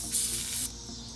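A short, loud hiss of aerosol spray on the brake lines of a Chevy Avalanche bursts for about half a second, then stops, leaving a low background hum.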